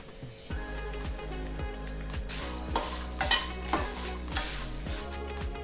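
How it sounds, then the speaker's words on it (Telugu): Whole spices, cumin and garlic cloves fry in a pan over a low flame, giving a gentle steady sizzle as a spoon stirs and scrapes against the metal in repeated soft clinks, close up with no talking. "వీటన్నిటిని లో ఫ్లేమ్ మీద మంచి సువాసన వచ్చేంత వరకు వేపుకోవాలి"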